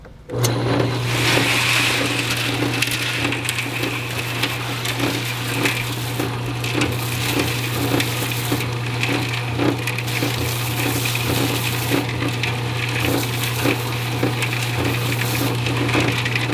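A concrete mixer with a broken on-off switch churns concrete for backyard footing bases, its steady motor hum under a continuous loud grinding, splashing rumble of tumbling wet mix that never lets up.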